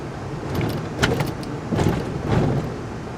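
A 2022 Toyota Tundra 1794 CrewMax pickup rolls over a mild speed hump at roughly 15 to 20 mph, giving a few dull cabin thumps and rattles over a steady low road rumble, with an empty bed.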